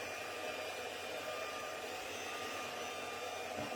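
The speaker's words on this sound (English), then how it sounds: "just letting my heat gun warm up a little" A heat gun warming up on a crafting table blows with a steady, loud, hissing roar that fills the whole moment without any voices.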